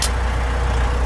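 A Sterling truck's air parking brake is set with a sharp burst of hissing air at the start, then the engine idles with a loud, steady low rumble.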